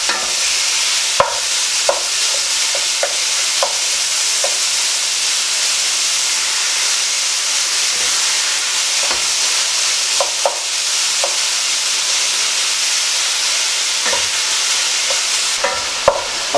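Minced meat sizzles and hisses steadily as it browns in a hot pan, with sharp scraping knocks from a utensil stirring and breaking it up at irregular intervals.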